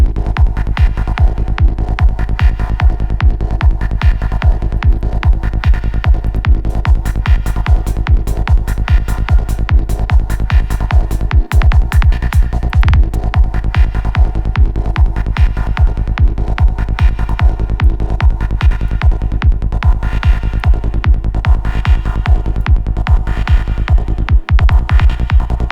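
A psytrance pattern in Bitwig drives a single-note FM synth lead over pounding low bass pulses, with rapid, steady sixteenth-note throbbing and buzzy metallic timbre, loud and continuous with no voices.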